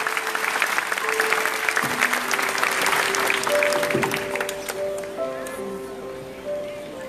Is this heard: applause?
yes